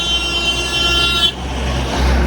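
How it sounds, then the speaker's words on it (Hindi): A loud, sustained vehicle horn blares close by over rumbling traffic, cutting off abruptly midway as engine noise continues. "हॉर्न बजा के जा रहे हैं"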